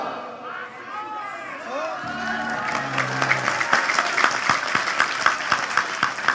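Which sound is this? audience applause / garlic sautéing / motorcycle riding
audience applause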